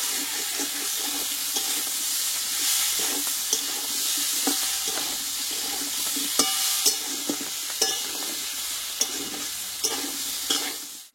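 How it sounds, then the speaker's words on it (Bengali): Papaya and ginger sautéing in a pan for a vegetarian Bengali dish, a steady dense sizzle with intermittent scraping clicks of a spatula stirring, close and continuous without any voices. "আদার জন্য একটু কষিয়ে নেবো"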